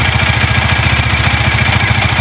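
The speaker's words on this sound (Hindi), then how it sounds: "तो मैं तो इंजन गर्म कर देता हूँ, इंजन ऑयल सब वो जल जाएगा।" A Bajaj Dominar motorcycle engine runs steadily to warm up, giving a loud, close, rhythmic low idle thrum with a fast regular pulse and some mechanical clatter, with no talking.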